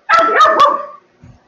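A young Belgian Malinois from a vaccinated litter gives one sharp, loud bark that stretches into a short yelping cry, close by, then falls silent.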